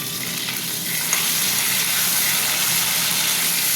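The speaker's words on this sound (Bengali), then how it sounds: "ভাজাটা হতে থাক।" Salted flat beans fry in oil in a pan for a yogurt paturi dish, giving a steady, close, dense sizzle with a brief stirring knock near the start and no talk.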